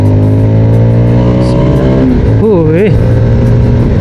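A Voge FR150 motorcycle engine hums steadily at close range, then briefly revs up and down twice before settling back to a constant drone.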